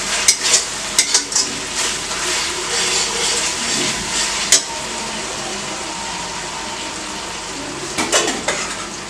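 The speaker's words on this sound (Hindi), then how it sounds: "अब इन सबको अच्छे से मिक्स करेंगे। एक मिनट तक भून लेंगे इसे।" Macaroni ingredients are tossed with Schezwan chutney in a hot pan, with a soft frying sizzle under repeated sharp clinks and scrapes of a metal spoon against the pan, clustered at the start and again near the end.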